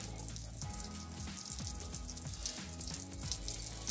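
Water running from an outside shower on a Clever Celebration camper van, a steady close spatter and splash with irregular drips, alone without talking.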